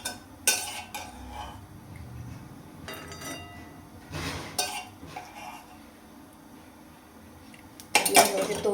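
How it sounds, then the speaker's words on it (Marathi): Two ladles of oil go into a hot kadhai on the gas, with scattered metallic clinks and scrapes of the ladle against the pan, the last burst louder and sizzling. "ह्याच्यामध्ये 2 पळ्या तेल टाकले आणि आता तेल पण आपलं गरम झाले."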